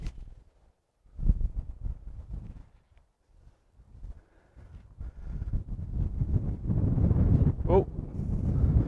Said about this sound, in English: The wind's coming from the right.